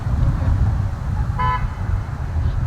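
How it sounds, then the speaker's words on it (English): A single short car horn toot sounds midway through, standing out over steady low traffic rumble and background noise. "Who honked at you? Did they honk at you?"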